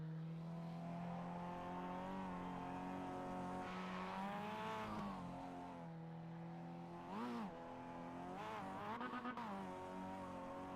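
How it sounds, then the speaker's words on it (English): A race car does backwards burnouts at a night racing event, its engine droning and rising and falling in pitch with repeated revs, loud and sustained, steadying mid-run and then surging again, with no talking. "Wyatt's going to do some backwards burnouts here."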